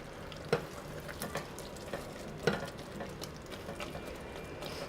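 Minced meat and tomatoes fry in a pan for a keema dish, giving a steady soft sizzle with a few louder spatters and stirring clinks, close and with no talking.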